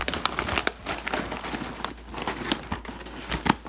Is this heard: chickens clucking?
no